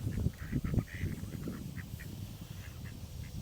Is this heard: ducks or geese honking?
yes